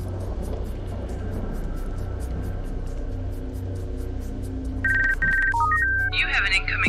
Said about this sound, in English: You have an incoming call.